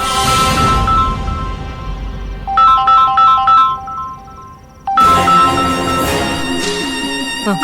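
A loud melodic phone ringtone plays, pauses briefly, then starts again, repeating its bright electronic tune.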